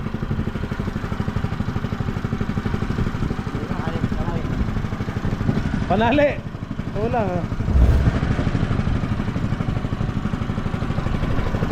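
A new water pump engine runs steadily and loudly at a storage building, a constant mid-pitched mechanical drone with clatter, while people talk briefly over it.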